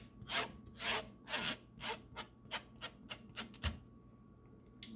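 Kefir grains get scraped off the bottom of a strainer in a series of about a dozen quiet, rhythmic rasping strokes, close and unhurried, slowing and thinning out toward the end.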